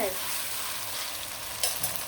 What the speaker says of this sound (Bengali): মাংসগুলো খুব সুন্দরভাবে ভেজে নিব